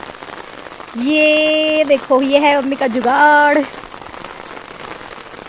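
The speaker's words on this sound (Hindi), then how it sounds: "इतनी तेज़ बारिश हो रही है" Heavy monsoon rain falls on a rooftop as a steady hiss that runs throughout, while someone speaks over it near the mic for several seconds.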